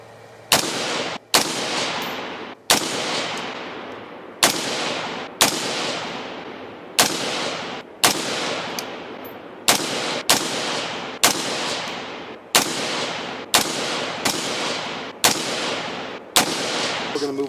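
Rifle shots crack out one at a time from PSA AR-15 style rifles at an outdoor shooting range, about fourteen loud, close reports at a steady pace of roughly one per second, each with a ringing decay.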